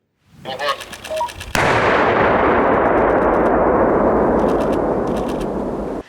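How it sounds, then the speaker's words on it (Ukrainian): Deminers carry out a controlled detonation of an improvised explosive device near Lyman in Donetsk region: a sudden massive blast follows brief muffled voices and swells into a long, loud roaring rumble that slowly fades. "На під'їзді до Лиману піротехніки знищують саморобний вибуховий пристрій."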